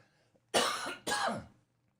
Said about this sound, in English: I got to get rid of this cough that I've had for 4 years